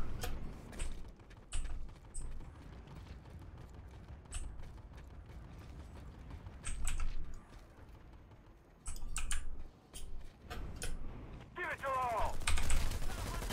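Scattered bursts of video game gunfire with clicks and mechanical clatter, some rapid automatic volleys, fairly close, ending in a louder stretch of shots.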